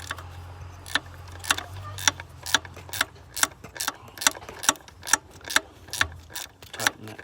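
A small hand ratchet clicks through a series of about fourteen sharp, evenly paced ticks while snugging down the fuel pressure regulator on a 7.3 engine, the aluminum part tightened close by with no talk.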